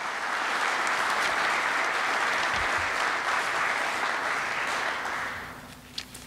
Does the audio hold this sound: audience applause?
yes